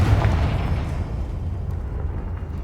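A Confringo fire spell in the Hogwarts Legacy video game goes off as a loud, sustained explosive roar, heavy with low rumble, lasting the whole moment and slowly tapering at the end.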